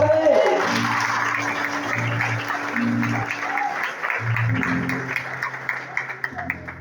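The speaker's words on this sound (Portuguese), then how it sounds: "Aplauda Ele, aplauda Ele." Congregation clapping in a church during a women's congress, a sustained crowd applause over sustained musical tones from a keyboard, lasting throughout and thinning toward the end.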